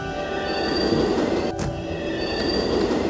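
Subway train in the SimCity 3000 city-building game, a steady loud rumble with squealing wheels running continuously, with a brief dip midway.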